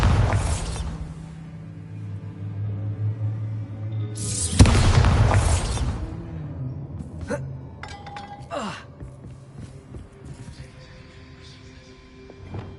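A Bombarda spell explodes in Hogwarts Legacy with one loud, sudden burst midway. Quieter game sounds and a few small pops come before and after it.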